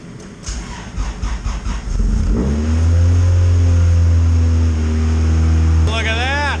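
A chipped Honda CRX cranks briefly, catches and settles into a loud, steady fast idle close by, with a short blip of revs near the end.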